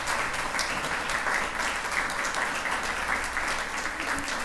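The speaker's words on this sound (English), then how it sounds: "everybody give our nominees a big round of applause" Audience at an awards ceremony for people over seventy applauding the nominees, a steady, moderately distant patter of many hands clapping throughout.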